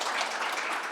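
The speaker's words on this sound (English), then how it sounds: "Please give him a big applause." An audience at a talk on humanoid robot development applauds the speaker, giving a brief, full burst of clapping that stays steady at moderate volume for about a second.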